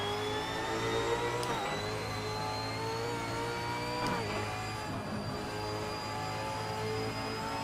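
Simulated 2018 V8 Supercar in Assetto Corsa, a loud continuous engine note rising steadily through the gears, with two brief gear-change dips and a rougher patch over a bump, no voices.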